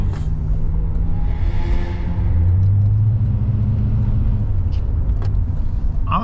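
A car is heard from inside while driving smoothly, a steady low engine and road rumble with a rise in tone partway through, no talking.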